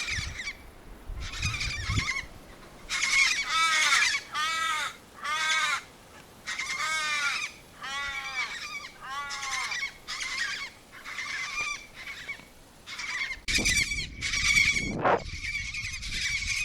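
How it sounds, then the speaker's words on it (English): Crows or ravens calling on the Nullarbor Plain, a series of loud, harsh, repeated caws in bursts, close and distinct, with a low rumble near the start and end and no talk. "it's the crow that is, or the raven that's annoying them"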